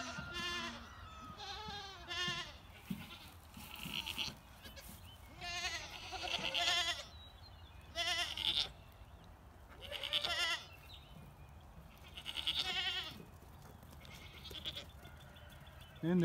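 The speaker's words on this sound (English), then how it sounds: "I hear Penny coming. She's the loudest one I've got." Several goats bleating repeatedly on a farm among climbing rocks, loud nasal calls in bursts every second or two, some close and some farther off, with faint background noise.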